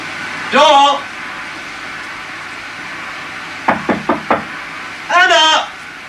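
A visitor knocks on a front door in a house, a quick series of four sharp raps near the middle, with voices speaking briefly before and after in a quiet room.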